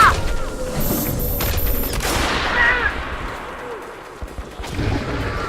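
Dense gunfire fills a firefight in the video game Metro Last Light, with sustained bursts of shots and crashes running loud and steady across the whole stretch under a busy game soundscape.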